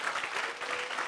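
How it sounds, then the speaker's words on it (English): Audience applause at a charity Fashion for Cancer catwalk event: steady, dense clapping from a crowd fills the whole stretch at an even level. "Let's have a clap."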